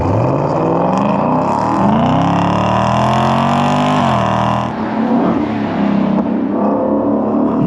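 A 2024 Ford Mustang GT fitted with a Magnaflow Competition exhaust revs loudly, its deep V8 note climbing steadily in pitch, then dropping off and settling into a rough, rumbling idle. No one speaks.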